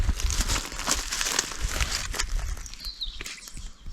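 Plastic with rope threaded through it handled up close in the bush, giving crinkly rustling and crumpling bursts that are loudest early and thin out toward the end.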